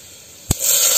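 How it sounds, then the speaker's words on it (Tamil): Mustard seeds hit hot oil for a tempering, giving one quick crack followed by a rising, close sputtering hiss that holds steady to the end. "கடுகு போடுறேன், கடுகு நல்லா பொரியுது"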